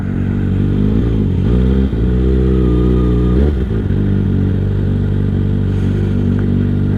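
Loud, steady drone of a Kawasaki ZX6R 636 sport motorcycle riding through downtown traffic, the engine note rising and dipping slightly with a brief rev swell midway, other vehicles blending into the continuous roar.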